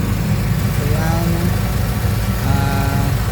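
A Toyota Corolla with a 4AF engine idles unevenly under the hood, giving a steady low mechanical rumble with a faint shake and irregular pulsing throughout, close and loud, with no talk over it.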